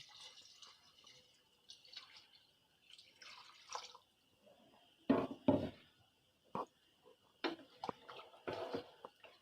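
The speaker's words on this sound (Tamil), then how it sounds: "சூப்புக்கு தேவையான அளவு தண்ணி ஊற்றுறேன்." Water poured into a pot for country chicken soup in short splashy bursts with drips in between, close and quiet, no voices.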